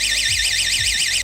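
Door trap alarm going off: a loud, piercing electronic siren warbling rapidly up and down in a continuous wail, with low thumps underneath, cutting off abruptly at the end.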